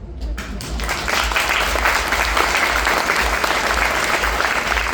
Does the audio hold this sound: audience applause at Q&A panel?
yes